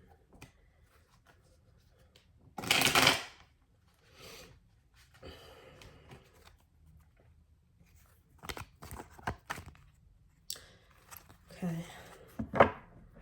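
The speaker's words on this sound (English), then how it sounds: "And I'll shuffle it again." Tarot cards are shuffled in a quiet room, with a loud riffling burst early on, then scattered softer card rustles and snaps and another sharp riffle near the end, under occasional quiet talk.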